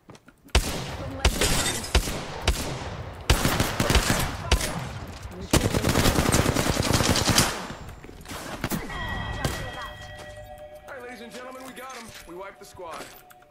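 Gunfire in the video game Apex Legends, loud rapid bursts of automatic weapon fire in several sustained volleys, followed by quieter clinking game effects, with a player talking over the action.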